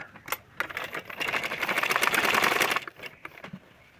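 A sewing machine stitching fabric, a short run of fast, even mechanical chattering that swells in the middle and stops, with a few light taps before and after.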